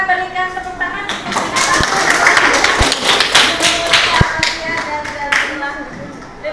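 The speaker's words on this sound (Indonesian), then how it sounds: "teman-teman kita berikan tepuk tangan untuk" Classroom students clapping for their classmates, a lively burst of many hands applauding together at close range with a teacher's voice speaking over it.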